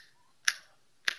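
Two sharp finger snaps, spaced about half a second apart, crisp and close in a quiet room with nothing else audible between them.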